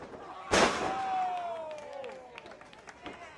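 In a professional wrestling ring, a right elbow strike lands with a single sharp slam. Crowd noise and a ringing tone follow, and a commentator talks faintly underneath.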